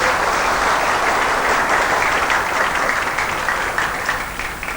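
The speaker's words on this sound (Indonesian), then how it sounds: "Tepuk tangan untuk Janto." Loud, sustained applause from a ceremony crowd at a village handover event in Aceh Besar, with dense clapping throughout that tapers slightly toward the end.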